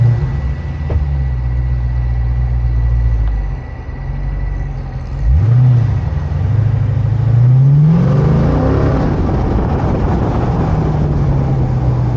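A 2023 Dodge Challenger SRT 392 Scatpack accelerates hard on a test drive: a loud, close engine rumble swells into a rising roar that sweeps upward in pitch, then holds a heavy, continuous drone.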